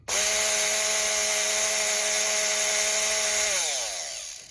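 A reassembled Philips blender with worn brushes and commutator trouble is switched on and runs with a loud, steady motor whine. Near the end it spins down, and the pitch falls away quickly.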